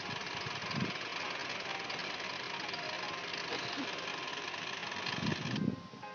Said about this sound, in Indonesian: Mesin sudah hidup